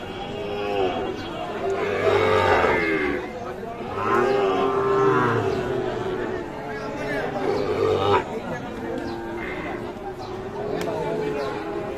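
Several cattle moo loudly in long drawn-out calls, one after another, over a busy crowd chattering nearby at a cattle market where Sahiwal calves are sold.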